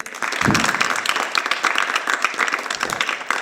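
Applause from a church congregation or youth gathering at a Malayalam gospel event, dense steady clapping at close-to-mid distance sustained throughout, with no speech over it.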